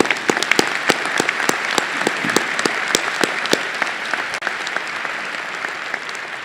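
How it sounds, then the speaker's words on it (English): A commencement crowd applauds the ceremony marshals, with steady dense clapping throughout and some sharper individual claps standing out, loud and sustained with no voices. "Let's give them a round of applause."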